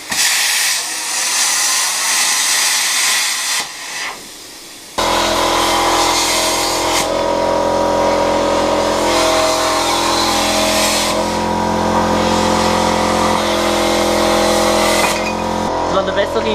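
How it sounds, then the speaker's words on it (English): A plasma cutter slices through the metal frame of a Green Machine scooter, a loud, steady hiss and roar that kicks in after a few seconds of quieter workshop noise and runs without a break to the end. "I'm about to plasma cut this thing in half"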